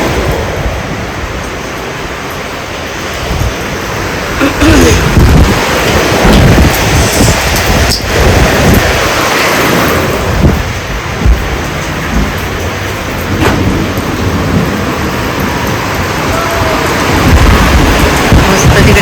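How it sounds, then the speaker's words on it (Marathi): Heavy monsoon rain pours steadily, close and loud, while low rolls of thunder rumble through it now and then. "खूप छान मस्त पाऊस पडतोय"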